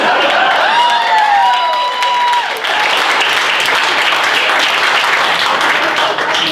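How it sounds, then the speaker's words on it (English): Loud audience applause with cheering and whoops fills a comedy club after a stand-up bit, dense clapping sustained throughout with a few shouted voices rising above it. "I want to hold your applause."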